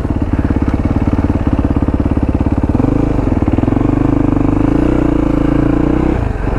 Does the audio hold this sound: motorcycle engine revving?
yes